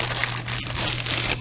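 A plastic bag tied with a slip knot, holding a graded VHS tape, crinkles steadily and loudly up close as it is handled, with no talking over it.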